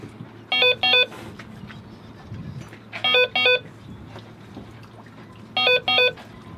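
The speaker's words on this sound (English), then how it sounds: "that beep, that means it's not actually getting the GPS position." A GPS device beeps on a sailboat in three bursts of two quick double tones, each about two and a half seconds apart, clear and close, with faint background noise, signalling it has no GPS position fix.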